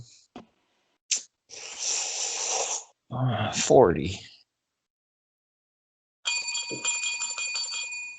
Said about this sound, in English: That bell right there does not mean the end of the 3-way dance like it usually does.